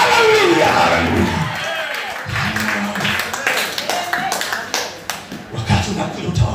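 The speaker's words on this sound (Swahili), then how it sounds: "makofi kwa Bwana, makofi kwa aliyetuumba, makofi kwa Bwana" Church congregation clapping during a Sunday service, loud rhythmic claps mixed with crowd voices and shouts, continuous throughout.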